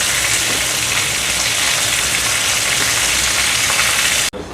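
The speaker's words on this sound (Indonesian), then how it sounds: "Goreng bumbu kari ala Yayu" Curry spices fry in hot oil with a loud, dense, continuous sizzle and crackle held close up, cutting off abruptly near the end.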